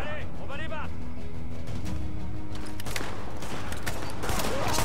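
Gunfire in Tom Clancy's The Division, a fast burst of shots over loud game sound and music, with someone speaking French over it.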